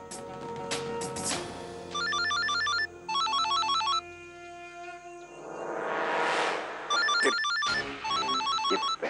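A phone ringing in a drama scene, repeated electronic trilling bursts at a steady rhythm with a brief rising swoosh between them, moderately loud with no talk.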